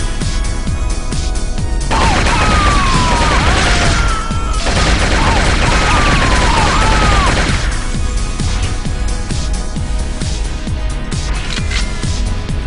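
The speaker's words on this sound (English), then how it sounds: "This is the energy grenade launcher" Energy grenade launcher in the shooter game Shogo firing continuously, a loud dense barrage of blasts with warbling electronic tones, briefly dropping out once before resuming, with no one talking.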